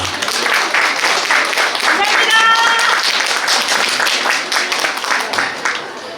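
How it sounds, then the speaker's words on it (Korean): An audience at a founding ceremony applauds steadily and loudly, dense clapping sustained throughout before easing slightly at the end. "다시 한 번 박수 한 번 부탁드리겠습니다."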